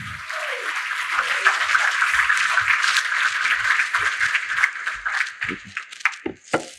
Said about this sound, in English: Give him a huge round of applause for putting this together